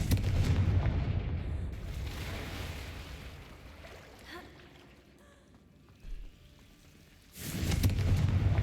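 A Confringo blasting spell cast in Hogwarts Legacy inside a cave, heard as loud rumbling blasts at the start and again at the end with quieter echoing ambience and a brief thud between.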